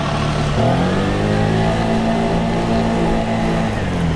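An old Vespa scooter converted to automatic runs a mid-pitched, steady engine note that rises as it speeds up, close and loud for about four seconds.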